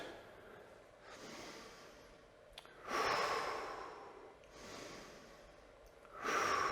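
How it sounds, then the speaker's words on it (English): Slow yoga breathing in and out during an advanced session, long airy breaths rising and falling in a steady rhythm, close and soft with no talk. "2 breaths in and out."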